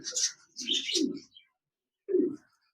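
Pair of lutino and albino red-eye pet birds giving a few short close chirps and soft calls in quick bursts, then one more after a brief pause.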